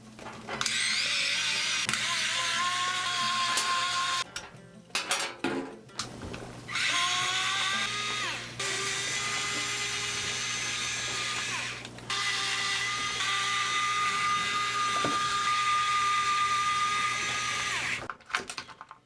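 A small electric screwdriver whirs in sustained bursts while removing screws to free the motor of a Louise LRX RC rally car kit, the pauses between bursts filled with faint clicks and handling noises up close.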